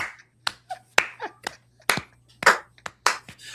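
A handful of sharp, separate claps or snaps, irregular and close, with short gaps between them, under a faint steady hum.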